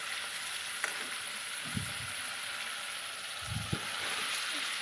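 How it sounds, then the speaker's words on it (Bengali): A spice paste with green chillies fries quietly in a pan for a fig korma, giving a soft, even hiss. Two or three dull stirring thumps come through at intervals, and the whole sound stays low and close. "দেখো ভালো করে মশলাটা কষিয়ে নেবো এখানে আমি"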